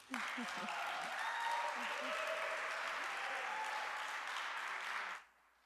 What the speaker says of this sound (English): if everyone in here could please give a warm round of applause to welcome Reverend Jeff Berry